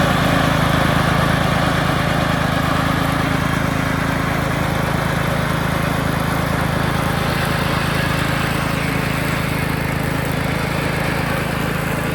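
A lawn mower fitted with Budrash direct-replacement blades runs loud and steady nearby, a constant droning engine roar with no pauses.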